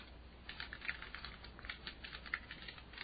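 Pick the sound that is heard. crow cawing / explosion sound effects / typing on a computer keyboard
typing on a computer keyboard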